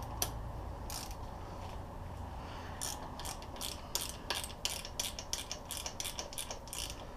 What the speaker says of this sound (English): I find these ratchet wrenches especially work handy.